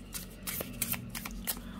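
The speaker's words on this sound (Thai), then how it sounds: "เดี๋ยวเรามาส่วนของการสับไพ่กันใช่ไหม" Tarot cards from The Journey of Enlightenment deck being shuffled, a quick series of soft, close riffling flutters repeated several times at low volume.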